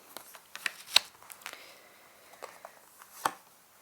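Tarot cards being shuffled by hand: a faint, irregular run of soft riffles and light card snaps, close up in a quiet room with no talking.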